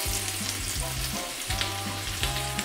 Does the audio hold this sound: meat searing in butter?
yes